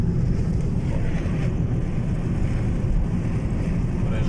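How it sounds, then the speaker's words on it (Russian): Strong gusty wind roaring around a Ford Focus 3 estate with a roof box, driving on a highway; a steady, loud low rumble of wind and road noise fills the cabin throughout, with no talking. "Ветер сильнейший."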